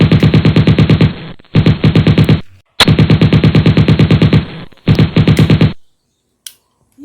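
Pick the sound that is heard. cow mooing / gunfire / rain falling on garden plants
gunfire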